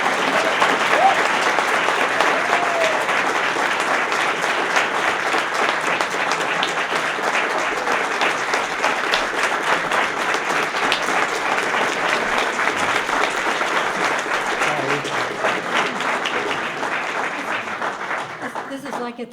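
A large audience claps steadily and loudly for nearly twenty seconds at a Professor of the Year honor, with voices faintly mixed into the dense, even applause.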